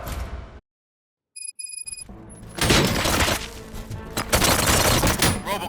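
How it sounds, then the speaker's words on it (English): Gunfire erupts in the Robocop: Rogue City video game after a brief silence and a few electronic beeps, building into loud, dense bursts of shots and impacts that continue steadily to the end. "Gunshots? What's going on?"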